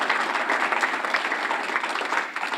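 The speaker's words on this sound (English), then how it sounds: "let's everyone give our community a round of applause for all the amazing things we do here" Crowd at a City of Dubuque ribbon-cutting for its Jule Operations and Training Center applauding the community, a brisk, even burst of many hands clapping close by throughout.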